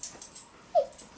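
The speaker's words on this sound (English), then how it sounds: "if you hear that, that's our doggy behind the camera." A dog gives a single short, high whimper close by, surrounded by a few faint soft clicks and breaths in an otherwise quiet room.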